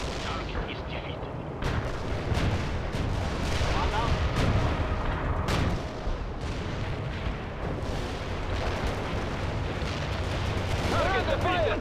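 Heavy artillery strike in the World in Conflict video game, a continuous barrage of booming blasts and gunfire rumbling loudly throughout, with sharp impacts and crackling debris.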